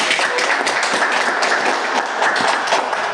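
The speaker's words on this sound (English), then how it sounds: "Let's give them a round of applause." A crowd claps steadily in sustained applause at a breast cancer awareness panel discussion, dense and even throughout, with no voices standing out.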